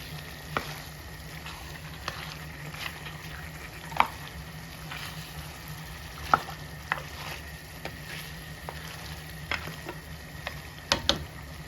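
Tandoori chicken cooks in a tray, letting out scattered small crackles and pops over a low steady hum, with no speech.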